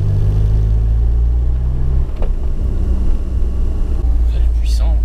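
A Peugeot 306 turbo diesel car engine revs and pulls hard, a loud, deep rumble that builds and shifts as the car accelerates, heard from inside the car.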